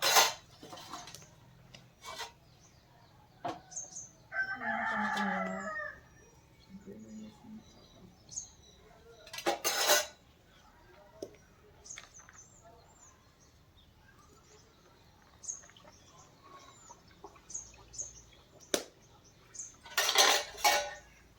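Deep-fried ariselu sweets pressed to squeeze out oil during village Sankranti cooking over a wood-fire stove: intermittent close clatter, rubbing and scraping of kitchen utensils, with a brief hum of voice and faint bird calls in the background.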